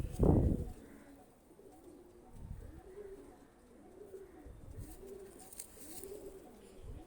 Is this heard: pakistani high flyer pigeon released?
yes